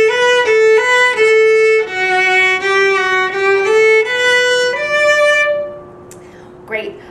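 Solo violin plays measures 13 and 14 of "Frog in a Tree" together, a short run of clean bowed notes ending on a held tone, close-miked and alone, followed by a brief bit of quiet.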